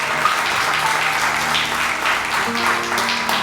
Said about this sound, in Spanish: Démosle ese aplauso bien fuerte, él se lo merece.